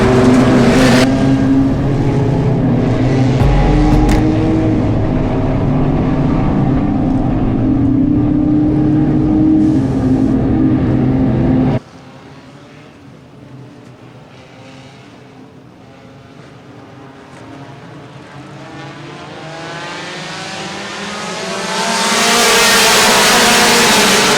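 Race cars, sprint cars and late models, roar around a dirt track as the green flag drops, a loud dense engine wall that suddenly drops away to quieter distant revving before building again as the pack returns.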